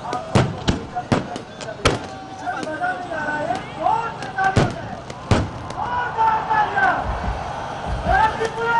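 New Year fireworks burst over Pakistani cities such as Lahore, Karachi and Faisalabad. Sharp bangs and crackles come at irregular intervals over a murmuring crowd and distant whistling streaks.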